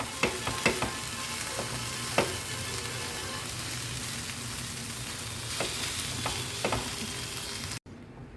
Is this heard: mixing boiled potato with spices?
yes